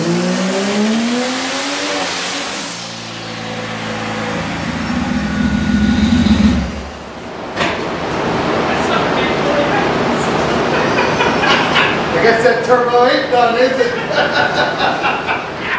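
A turbocharged GM Vortec 4200 inline-six runs on a dyno under heavy boost, its loud engine note climbing and falling before a lift near the midpoint, then a sustained high-load roar with turbo whine.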